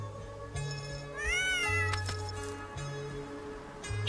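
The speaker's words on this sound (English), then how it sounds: "Look at the kitty." A pet cat meows repeatedly indoors, several drawn-out, rising and falling cries close by, with a steady low hum running underneath throughout.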